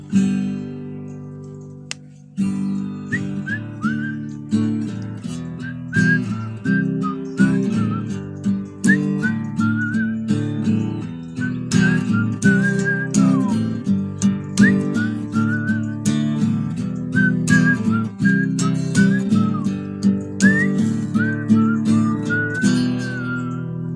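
A person whistles a song in clear melodic phrases, close and fairly loud, over a steady plucked instrumental accompaniment with a regular beat.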